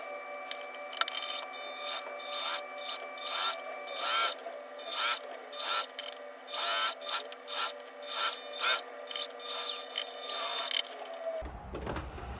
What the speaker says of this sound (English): I'll go ahead and stitch all the way across.